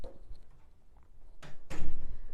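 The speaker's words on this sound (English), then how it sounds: "So let me close my door." A door being shut indoors in a home office, heard as two broad bursts in quick succession near the end after a quiet stretch, close and moderately loud.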